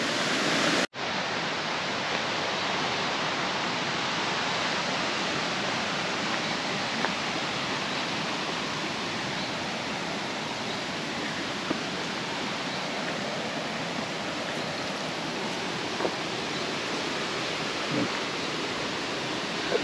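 The Janj River flows through untouched nature at the Janjske Otoke reserve near Šipovo as a steady, broad rush of water that holds evenly and fairly close after a brief cut at the start.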